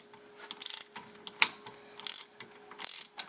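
A hand ratchet clicks in short bursts, tightening rear brake bolts on a 2004 Volkswagen Jetta TDI; four quick ratcheting strokes sound close, with small metallic taps between them.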